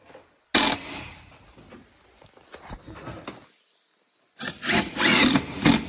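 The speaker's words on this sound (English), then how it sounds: "Push it all together and put your screws in. I've used 4 screws, the 40mm ones I use. Straight in." A power drill drives 40mm screws into a wooden bee box, with a short whirring burst, a quieter stretch of handling, then another sustained whine as a screw is sunk close by.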